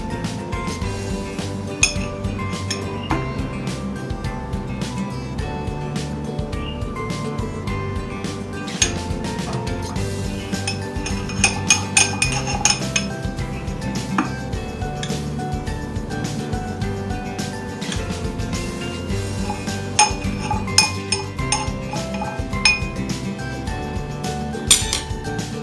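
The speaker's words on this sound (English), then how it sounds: "First, I will add 2 tablespoons of Rooibos in the" A spoon clinks repeatedly against a drinking glass while two tablespoons of rooibos tea are added, light ringing taps scattered over a busy background of continuous music.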